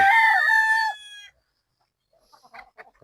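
A locally bred bull stag gamefowl rooster lets out one loud, close crow lasting about a second, which cuts off into near silence before a few faint, scattered sounds follow.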